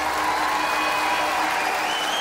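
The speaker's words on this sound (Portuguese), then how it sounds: "Uma salva de palmas assim para vocês." Sustained, dense applause from a large audience at a live concert at Super Bock Arena, loud and even throughout, with faint cheering mixed in.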